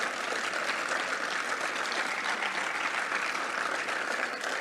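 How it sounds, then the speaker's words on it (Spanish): Steady applause from an audience at a symposium, a dense even wash of clapping at moderate distance, sustained without break and with no speech over it. "Recibimos con un fuerte aplauso para escuchar la ponencia"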